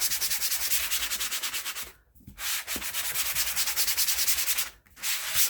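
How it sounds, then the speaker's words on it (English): A sand block rubbing back and forth across a quarter-inch-thick wooden round, a loud, steady, rhythmic scratchy sanding broken by two short pauses. "I'm taking my sand block and I'm just gonna sand it"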